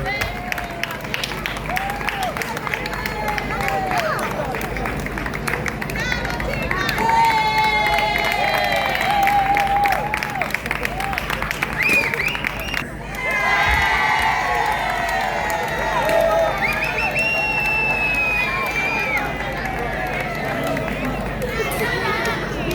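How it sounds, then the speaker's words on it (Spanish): At an awards ceremony for the Volta Ecolóxica in A Rúa, a crowd claps and cheers steadily, with shouts, children's voices and chatter blending into a sustained, lively roar. "aplauso para ellos"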